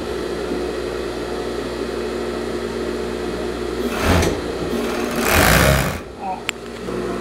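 An overlock sewing machine stitches the sleeve seam of a knit blouse, a steady background motor hum rising into two short loud bursts of fast stitching, with someone talking throughout.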